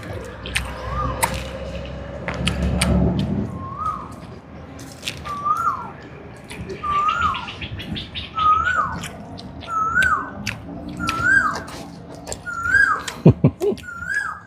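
A bird repeats a clear whistled call at a steady pace, about every second, sounding close and bright over faint background clatter and occasional sharp clicks, during outdoor cooking of fermented tilapia.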